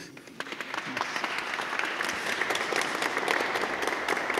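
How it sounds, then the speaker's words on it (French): Inside the Église Saint-André in Angoulême, a church audience applauds Père Laurent Morin with a continuous dense clapping that swells slightly and stays steady throughout. "Je crois qu'on peut vous applaudir, vous l'avez bien mérité"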